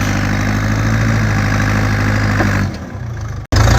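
An old digging machine's engine runs close by, a loud steady idle that drops off briefly near the end, then picks back up.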